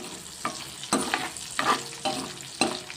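Slit green chillies frying in a pan of oil for an eggplant curry, stirred in short bursts, with crackling sizzle and scraping spoon strokes about every half second, close and clear with no talking.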